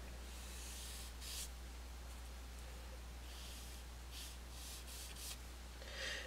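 A pan pastel is rubbed onto an art journal page in several short, soft scrubbing strokes, faint and close, separated by quiet gaps, with a low steady hum underneath.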